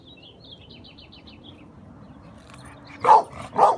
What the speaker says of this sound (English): He's just barking for attention.